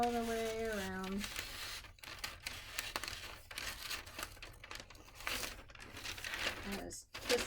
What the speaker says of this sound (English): I'm going to cut this out all the way around.